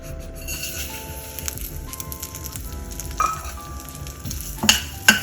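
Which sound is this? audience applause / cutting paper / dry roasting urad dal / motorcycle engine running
dry roasting urad dal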